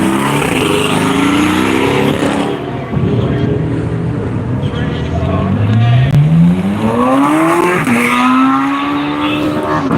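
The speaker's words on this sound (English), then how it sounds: "Tim White taking off in the Penguin Garage Corvette." Corvette race car taking off on a raceway, its engine roaring up through the gears with pitch sweeping upward and shifting, loud and close over other engine noise while a commentator talks.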